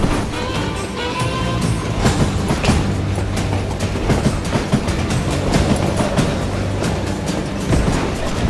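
Train rolling along rails in the Western game Call of Juarez Gunslinger, a steady rumbling clatter with repeated clicks and a low droning hum throughout, loud and continuous.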